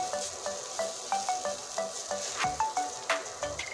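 Taro leaves sizzling in a pan for bharta, a steady close frying hiss with short repeated scraping strokes at an even rhythm, no voices.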